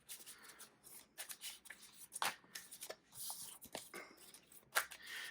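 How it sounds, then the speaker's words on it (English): Yu-Gi-Oh cards being shuffled back into a deck by hand, a string of quick papery riffles and taps, close and fairly quiet, with no talking. "Shuffle these 2 back into the deck."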